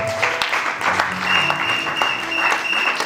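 Church congregation applauding loudly in a steady, dense wash of clapping hands that fills the room, with some voices calling out underneath.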